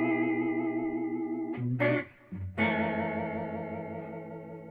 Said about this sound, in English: I'm going to switch it over to the vibrato setting, this little switch up here, and you'll hear the difference.